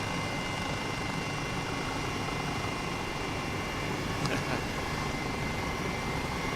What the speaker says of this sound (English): I'll just get a quick wash actually of my helicopter.